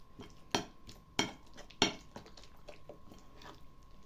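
A utensil scrapes and clinks against a bowl three times in sharp strokes, with soft wet squishing of a thick patty mixture made from red fish backbones in between.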